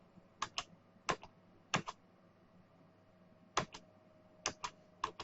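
Computer keyboard typing, a handful of quiet, sparse clicks in small clusters with pauses between them against a faint hum.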